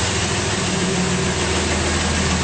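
A 2009 Dodge Ram 3500 dually with a 6.7L diesel and banks ram air intake idles smoothly with a loud, steady low rumble and a dense continuous clatter, close up with no talk.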